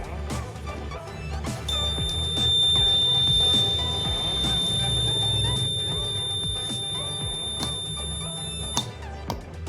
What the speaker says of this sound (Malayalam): ഇപ്പം തനിയെ ഇവിടെ അലാം ജനറേറ്റ് ചെയ്യും.